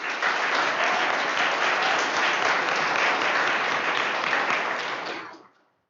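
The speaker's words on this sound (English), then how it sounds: "just give a round of applause to all of our families" An audience at a board of directors meeting gives a round of applause for the families, steady, dense clapping that fills the room for about five seconds and then quickly dies away.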